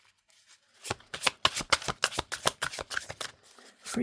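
A deck of tarot cards riffle-shuffled up close, a quick burst of about a dozen crisp, evenly spaced flutters and slaps that start after a brief quiet and end with one final soft tap.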